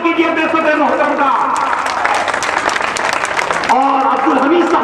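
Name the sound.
loud applause from the audience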